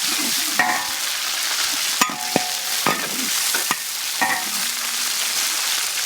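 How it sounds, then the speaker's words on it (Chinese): Scallion, ginger, garlic, bird's eye chilies, pickled chilies and chili bean paste fry in hot oil with a steady loud sizzle, broken by several sharp scrapes and knocks of stirring. "油温热，下入葱、姜、蒜、小米椒、泡椒，再来点豆瓣酱"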